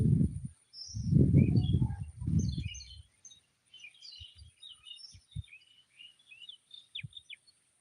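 Birds call outdoors with faint, scattered high chirps and short whistles. Speech-like low bursts sound at the start, followed by a few soft knocks.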